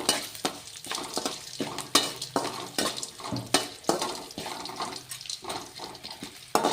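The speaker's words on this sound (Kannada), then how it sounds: "ಇದೇ ರೀತಿ ಉದ್ದಿನ ಬೇಳೆ, ಕಡ್ಲಿ ಬೇಳೆ ಫ್ರೈ ಆಗಿದ್ವು ಅಂದ್ರೆ ಕುಟುಂಬ ಚಿತ್ರಾನ್ನದಾಗ ಮಸ್ತ್ ಟೇಸ್ಟ್ ಕೊಡ್ಬೇಕು" Urad dal and chana dal fry in ghee with hing in a pan, and a utensil scrapes and stirs in a steady rhythm of repeated clinks over a constant sizzle, close and alone.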